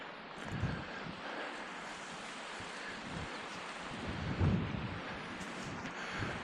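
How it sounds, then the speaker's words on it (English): Fresh wind blowing across a lakeside beach at Mentor Lagoons in Ohio, a steady broad whoosh buffeting the microphone with a couple of stronger low gusts and faint surf beneath. "Hopefully the microphone's not picking up all the wind."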